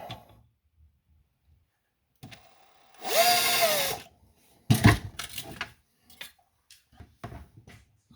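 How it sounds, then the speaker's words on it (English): A power drill whirs in one short, loud burst, followed by clattering and knocking of tools and objects being handled nearby. "Margaret, where's my drill?"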